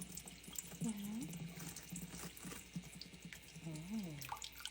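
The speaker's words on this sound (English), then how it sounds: "Like your own personal waterfall, little fountain." Running water trickles from a tap as a small fountain for a pet cockatoo, a soft steady stream under occasional bird calls and quiet background talk.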